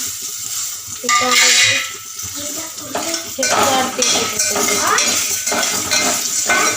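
A pan of popcorn tossed with a little turmeric is stirred and sautéed, with the spoon scraping and clattering steadily against the metal over a continuous frying hiss, close and loud throughout.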